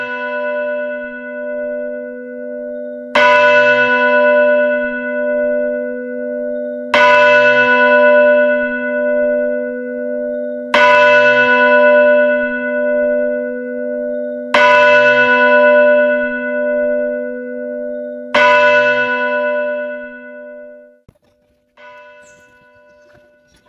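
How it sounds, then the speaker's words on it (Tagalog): A church bell rung by hand strikes five times at steady intervals of about four seconds. Each loud, ringing clang hangs and decays over a steady low hum before the next stroke. "Kanina pa tayo dito nakatayo at nagpapatunog ng kampana."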